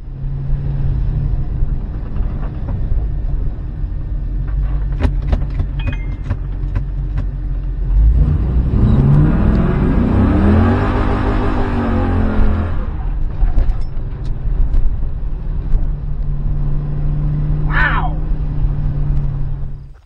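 A 1969 Camaro restomod with a stock LS3 V8 drives on a tune run, a loud steady engine drone that rises in a rev sweep midway before settling back to cruising, with a brief squeal near the end.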